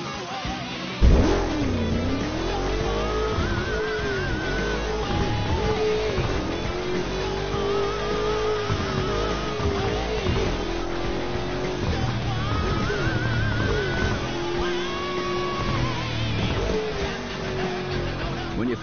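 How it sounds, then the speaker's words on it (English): Car engine in a driving video game fires up and then revs repeatedly, a loud continuous roar rising and falling in pitch with tire noise mixed in, no voices. "Hold the accelerator to fire up the engine."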